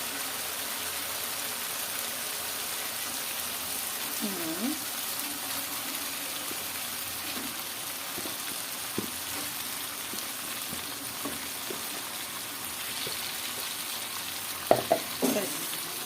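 Chicken pieces sizzle and fry in hot spiced oil in a pan, a steady broadband hiss with occasional scrapes and stirring knocks, louder clatter near the end, with no talking.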